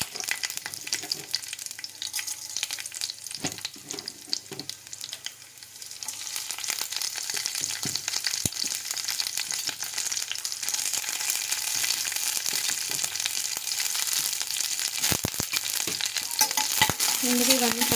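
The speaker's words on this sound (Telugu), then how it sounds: "ముందుగా ఇవన్నీ ఫ్రై చేసుకొని" Raw chana dal fries in hot oil in a pan, a steady close sizzle that swells louder after a few seconds, broken by occasional scrapes and stirs of a spoon.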